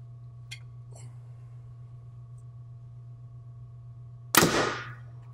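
A Mathews TX-5 compound bow shoots a light Gold Tip arrow in a single sharp, fairly quiet release with a short decaying thump, alone against a steady low hum.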